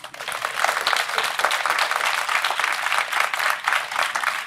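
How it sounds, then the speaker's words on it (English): Audience at a homelessness symposium in New York City breaks into a dense, sustained round of applause, many hands clapping together at steady volume with no voices over it. "I expect a round of applause there."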